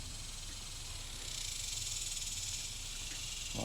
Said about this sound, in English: Got a lot of bugs in the background